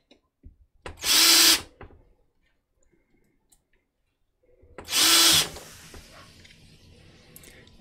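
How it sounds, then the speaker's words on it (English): A power drill whirs in two short, loud bursts of about a second each, separated by a quiet gap with faint clicks and handling noises. "I'm going to keep doing that with the drill."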